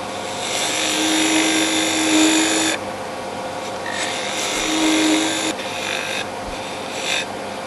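A wood lathe spins as a tool cuts into a turned wooden sphere, throwing shavings: a continuous close, bright scraping whir with shifting pressure and brief changes in tone, no speech.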